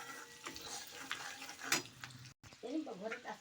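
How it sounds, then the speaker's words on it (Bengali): Whole garam masala spices with ginger and garlic frying in a mix of butter and white oil for butter egg curry, a steady close sizzle with stirring and utensil clinks, briefly cut off, with faint voices in the background. "এই বাটার আর সাদা তেলের মধ্যে আমি গোটা গরম মশলা দিয়ে দিলাম তারপরে আদা আর রসুনটাও দিয়ে দিলাম"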